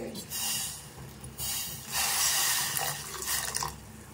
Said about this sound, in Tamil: கொஞ்சம் போல தண்ணி சேர்த்து அந்த வெல்லத்தை கரைச்சி எடுத்துக்கலாம்.